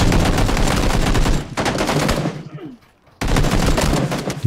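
Rapid automatic gunfire from the video game PUBG, loud and dense bursts that cut out briefly around the middle before resuming at full intensity.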